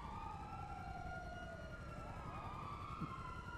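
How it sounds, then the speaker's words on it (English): Police sirens wailing in the video game GTA Online during a chase, several overlapping sweeping tones rising and falling continuously over a rumbling engine bed, fairly loud and close. "Just listen to those sirens."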